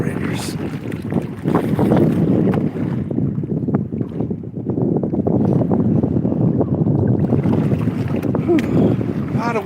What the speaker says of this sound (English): A lot of waves today.